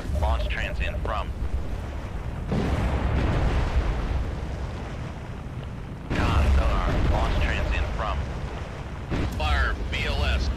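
Missiles launch in the submarine game Cold Waters, heavy roaring bursts of launch rumble in loud surges, with radio-style voice callouts talking over them.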